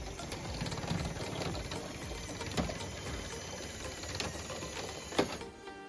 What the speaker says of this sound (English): now the pin sweep is going to go back and clear the lane